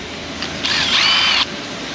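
A power drill spins old bolts loose in one steady whirring burst of under a second, close and fairly loud, with a quiet room before and after.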